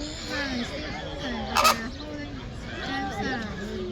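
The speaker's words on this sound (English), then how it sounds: "Flamingos are a native flock from Kenya, Africa." Flamingos in a flock at Auckland Zoo giving repeated nasal honking calls, moderately close and overlapping, with a background of visitor chatter and people talking.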